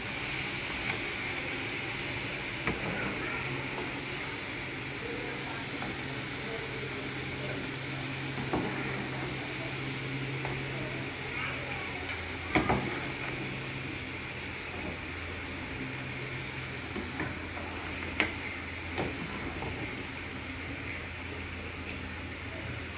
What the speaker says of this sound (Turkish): Hafif tuzlanmış patateslerimizi kızartıyoruz.